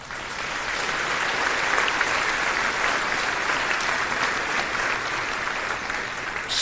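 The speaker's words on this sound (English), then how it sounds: "Please give them a round of applause." A graduation audience at the John Jay 2024 ceremony applauds, a dense and loud wash of many hands clapping that holds steady for several seconds, with no voices over it.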